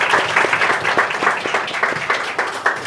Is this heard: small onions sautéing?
no